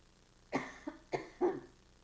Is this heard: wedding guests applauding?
no